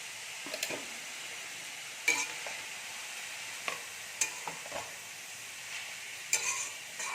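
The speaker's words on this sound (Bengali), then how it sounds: "ভালো করে নাড়াচাড়া করে ঢাকা দিয়ে দেবো" Vegetable chop filling, seasoned with turmeric and salt, is stirred as it fries in a pan: a soft steady sizzle runs underneath scattered spoon scrapes and light clinks against the pan, with no talking.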